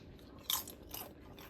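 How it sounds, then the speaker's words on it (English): Crisp home-dehydrated apple slices dusted with cinnamon crunch under a bite, one sharp close crack followed by a softer second crunch, faint and alone with no talking. "Listen at the crunch."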